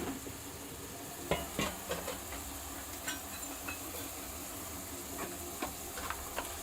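Garelu, lentil fritters, fry in hot oil with a constant soft sizzle and scattered sharper pops and crackles, close and fairly quiet, with no talking.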